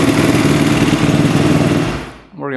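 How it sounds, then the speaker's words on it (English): Dirt bike engine revving loudly and steadily, then dropping off and settling back to a low idle near the end. "it's idling pretty low once it comes back down"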